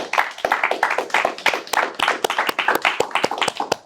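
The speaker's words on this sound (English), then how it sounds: "let's clap. Come on, guys." A small group claps together in a casual indoor setting, sharp overlapping hand claps at a quick uneven rhythm, close and fairly loud, with no talking over it.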